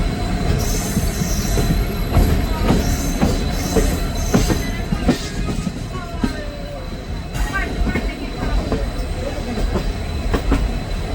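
A train rolls out of platform 1 at Rajpura with a steady low rumble, rhythmic clacking and high metallic wheel squeals, loud and close, with faint voices in the background.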